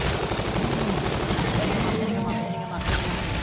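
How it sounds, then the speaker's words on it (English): Rapid, dense bursts of gunfire from a zombie shooter video game, continuous rattling shots with a brief lull near the end before firing resumes, with players talking over it. "you have to shoot his head"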